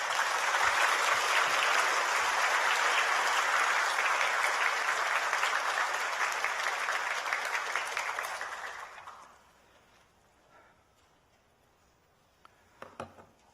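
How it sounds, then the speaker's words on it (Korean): A church congregation applauds loudly and steadily for about nine seconds to welcome a pastor, then the clapping fades out into near silence with a few faint scattered sounds. "목사님 나오실 때 큰 박수로 환영해 주시기를 바랍니다"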